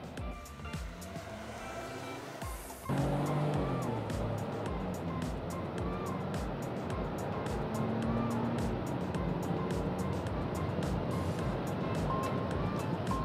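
A 2020 Proton X50 accelerates hard from 0 to 100 km/h with manual shifting, the engine note swelling suddenly after a quieter start and staying loud and strained, with faint rising and falling tones through the run.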